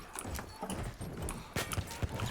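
Horse hooves clip-clop in quick uneven beats in a video game, a faint, busy patter close by with some game noise around it.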